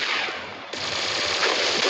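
Rapid automatic gunfire in a video game rattles in a continuous, loud, close burst that runs for about two seconds without pause.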